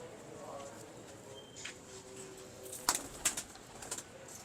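Lakhi breed pigeons coo softly in the background while people talk nearby, with a few brief sharp flutters and wing flaps near the end.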